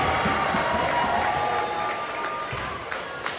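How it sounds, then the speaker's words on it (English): A round of applause rises from teammates and the crowd at a high school boys' basketball game, as Triton plays Wilmington. The clapping is steady and dense throughout, with a general gym roar and no clear voice on top. "Tegan Mead gets a nice round of applause from his teammates when it comes off"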